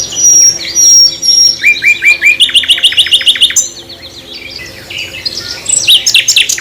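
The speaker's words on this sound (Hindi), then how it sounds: "कॉमन नाइटिंगेल बर्ड के गीत को प्रकृति का सबसे सुंदर गीत माना जाता है।" A common nightingale singing alone and close, running through varied phrases of rapid repeated notes, whistles and trills separated by short pauses.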